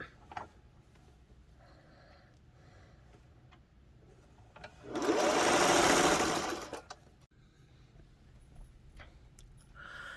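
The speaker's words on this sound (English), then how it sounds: "Right now I'm just encasing this in here and getting this sewn down." A sewing machine runs in one steady burst of about two seconds, stitching the matched edges of throw pillow fabric; quiet room tone and small handling ticks come before and after.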